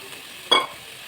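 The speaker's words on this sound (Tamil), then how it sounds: "தக்காளி பேஸ்ட் ஊற்றுறோம்" Tomato paste poured into a hot pan of sautéed curry leaves, mint and coriander for a traditional egg curry gives one short, close sizzling burst of about a tenth of a second, then a quiet kitchen.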